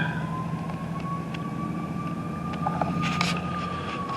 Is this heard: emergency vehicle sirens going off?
yes